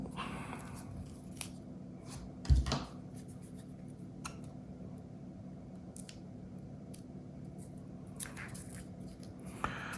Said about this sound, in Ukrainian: Давайте якось це охайно розпакуємо.